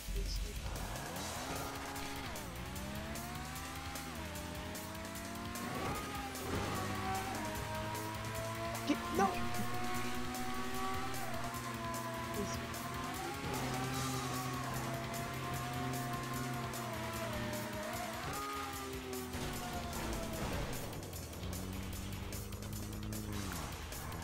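A car engine drones and revs in GTA 5 while driving, the pitch rising and falling through gear changes with occasional tire squeal, loud and continuous with speech mixed in.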